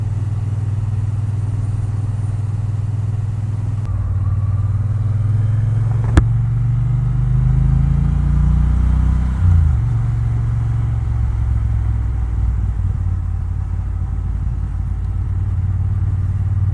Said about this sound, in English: Triumph Bonneville T120 Black.